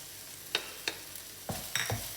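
Masala powders fry in a pan while being stirred, a quiet sizzle punctuated by several sharp scrapes and taps of the spoon against the metal, close by.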